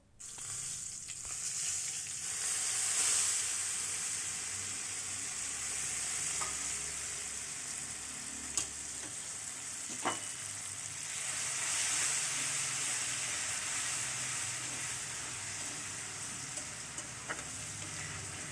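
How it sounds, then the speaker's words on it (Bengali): Ginger and green chili paste frying in a pan while being stirred, a steady close sizzle with occasional scrapes of the spatula, no voices. "দেখো আমি আদা আর লঙ্কার পেস্টটাকে ভালো করে নেড়ে চেড়ে কষিয়ে নিচ্ছি"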